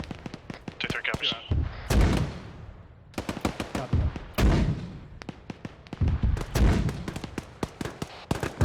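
Mortar rounds fired in the ArmA 3 military game thump out in repeated sharp blasts, with several loud booms around two, four and six seconds amid smaller crackling shots, while radio-style voices talk over the firing.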